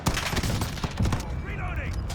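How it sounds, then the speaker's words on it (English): Gunfire in a shooter video game played on an Asus ROG Strix G15 laptop with a controller: a rapid burst of sharp, heavy shots up front, then fading echoes and a whistling tail, with a voice talking over part of it. "Somebody's shooting a shotgun over this direction"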